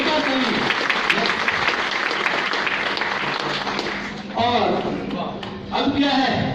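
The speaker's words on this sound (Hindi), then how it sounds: "एक जोरदार ताली।" An audience at a sales speech in Surat, Gujarat, breaks into loud, sustained applause, a dense wash of clapping that fades as the speaker resumes talking near the end.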